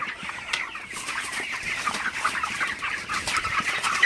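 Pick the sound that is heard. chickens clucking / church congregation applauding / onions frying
chickens clucking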